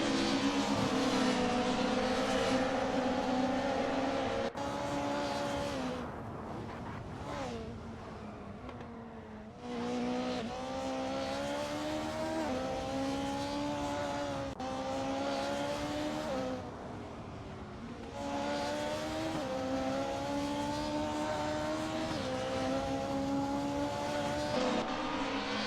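A video game race with a Peugeot 306 Maxi among the cars, engines droning and revving loudly in a continuous stream as gears shift up and down, with occasional tire squeal and no talking.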